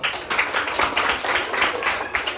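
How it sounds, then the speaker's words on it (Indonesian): A classroom of people clapping together after a group presentation, dense and steady applause with no talking, fairly close and lively throughout. "berikan tepuk tangan dulu."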